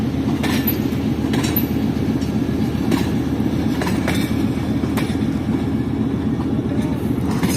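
Passenger train rake being shunted toward Chaman, a steady low rumble of rolling railcars with faint clicking wheel beats and occasional high squeals, continuous and fairly loud.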